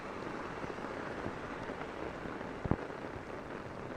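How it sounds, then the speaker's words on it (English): Torrential rain falling during a flash flood on Long Island, a dense, steady hiss of downpour with one sharp close thud near the end and no voices. "The rain just keeps getting heavier and heavier."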